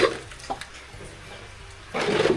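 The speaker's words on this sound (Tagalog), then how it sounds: "Dito natin lagay yung tubig ngayon, maboy." Water is poured into a container, a short splashing rush that swells near the end after a quiet stretch with a few faint knocks.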